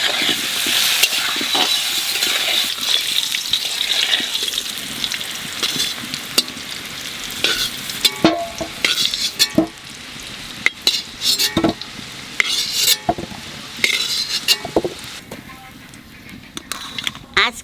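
New potatoes frying in a little oil for a village-style duck curry, with a constant sizzle and repeated scraping and clinking of a spoon stirring against the pan, close and fairly loud.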